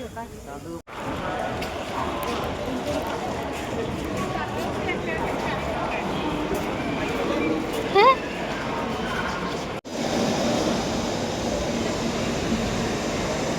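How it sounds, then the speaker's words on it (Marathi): Busy ambience at Panvel railway station, with a steady rumble of crowd noise and machinery, a brief high whistle-like tone partway through, and voices murmuring throughout. "मी आता आलो आहे पनवेल रेल्वे स्टेशन"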